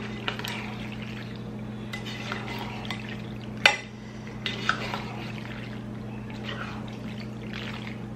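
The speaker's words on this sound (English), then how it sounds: "I'm going to just stir that up." A spoon stirs Kraft mac and cheese in a pot, with soft scraping and wet stirring sounds over a steady background hum and a few light clinks of utensil on metal.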